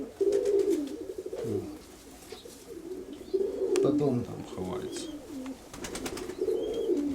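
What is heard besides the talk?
pigeons cooing in a dovecote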